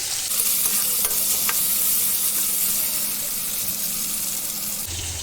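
Cumin seeds, ginger paste, a few green chilli pieces, tomato and turmeric sizzling in hot oil in a pan, a steady close crackle with a few sharp ticks and stirring scrapes, a brief louder bump near the end, no voices.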